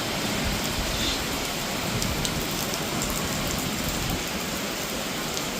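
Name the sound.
heavy rain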